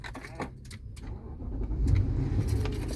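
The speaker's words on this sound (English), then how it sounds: "Now I'm going to start the car." An Infiniti QX80 engine cranks and starts close by: keys jangle first, then a low rumble rises and settles into a steady idle. No one speaks.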